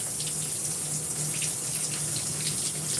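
Water from a tap runs in a steady, loud stream as hair is rinsed out of a heavy-hold set, a continuous close hiss with a low hum beneath.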